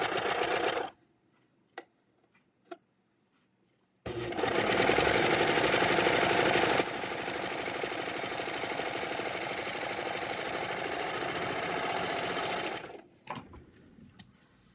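A serger overlock sewing machine stitches fabric in a loud, steady mechanical whir lasting about nine seconds, preceded by a few faint clicks and ending with small handling noises.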